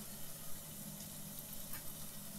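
Spices including turmeric, chili and green chili sizzling as they roast in a pan for paneer kulcha, a faint, steady crackling fry with no voices.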